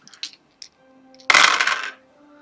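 Dice clatter onto a table during a tabletop role-playing game session, a sharp rattling burst after a few light clicks, close and loud with a faint hum behind.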